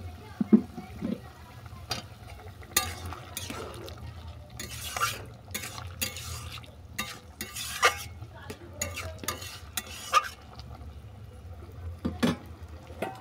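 Vegetables with beetroot, fried greens, cucumber and chopped tomato stirred in a pan, with repeated scraping strokes and soft sizzling over a low steady hum, moderately close.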